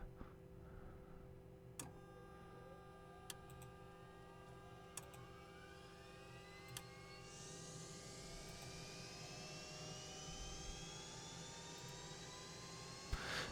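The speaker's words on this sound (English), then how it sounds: "Let's go ahead and start this plane up." G39 Griffen jet in the Flight Simulator 2020 game spooling up from a low steady hum into a rising turbine whine that climbs steadily over several seconds, with a few sharp clicks early on and no talk.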